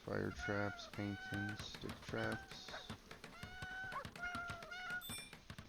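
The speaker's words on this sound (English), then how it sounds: "You can hear all those cats meowing." Several cats in the video game Going Medieval meow repeatedly over steady talking, with short tonal cries scattered through the clip amid game-like clicks.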